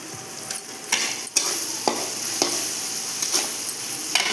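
Marinated chicken with spices sizzles steadily in a hot pan, broken by irregular scraping stirs and clacks of a utensil against the pan every half second or so, close and fairly loud, with no voices.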